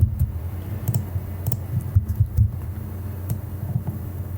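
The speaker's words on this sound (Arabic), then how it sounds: "ادوس تي على الكيبورد عشان اجيب الاوباسيتي" Keys tapped on a computer keyboard while working in motion graphics software: scattered light clicks at an irregular pace, close and fairly quiet over a low hum, with no talking.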